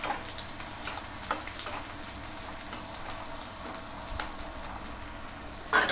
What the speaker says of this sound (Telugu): ఒక ఉల్లిగడ్డ వేసి చక్కగా కలబెట్టుకుందాం.